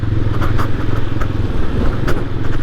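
A TVS Apache RTR 160 4V motorcycle rolls over a pothole with its engine running steadily, and a few short knocks and clatters come from the suspension as it passes over the rough patch.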